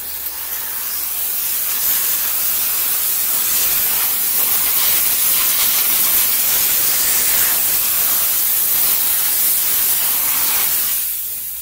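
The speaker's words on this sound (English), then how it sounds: "we need our steam wand at 125 PSI, and we'll be able to make quick work of this" A steam wand at 125 PSI blasts debris out of a car's cowl and wiper area, producing a loud, steady hiss that runs unbroken for about eleven seconds with no voices.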